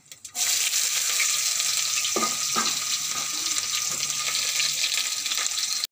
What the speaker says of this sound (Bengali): দেখো পেঁয়াজটা ভাজা ভাজা হয়ে আসছে।